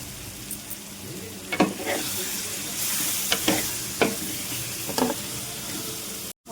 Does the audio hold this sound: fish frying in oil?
yes